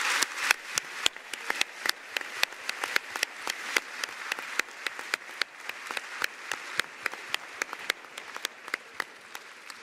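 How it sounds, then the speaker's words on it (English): At a business school graduation celebration, an audience keeps up steady applause for about ten seconds: dense continuous clapping with many crisp, sharp individual claps punctuating the wash. "Thank you for giving them a round of applause."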